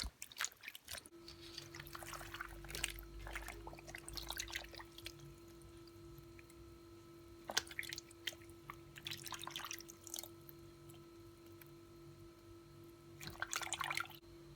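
Morel mushrooms are rinsed under water, with drips and splashy bursts of flow coming and going near the microphone over a steady low hum and quiet stretches between.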